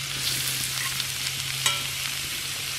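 Food sizzles steadily on a grill rack over a fire pit built from a truck wheel, a close, even crackling hiss with one brief sharper pop and no talk.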